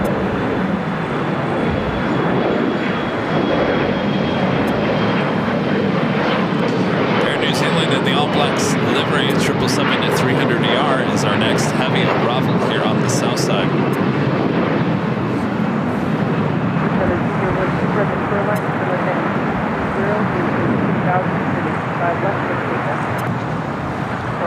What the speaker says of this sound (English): It should be back-to-back A380 takeoffs here on the south side.